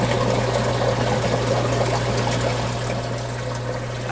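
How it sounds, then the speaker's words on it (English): A 120-gallon aquarium sump gurgles loudly and continuously, a close, steady bubbling water sound over a constant low pump hum. "Oh my gosh, listen to this gurgle."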